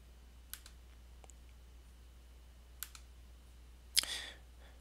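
A few sharp computer mouse clicks on a Linux Lite 2.6 beta Acer C720 Chromebook while navigating settings menus, spaced singly with a brighter click near the end, faint and close in an otherwise quiet room.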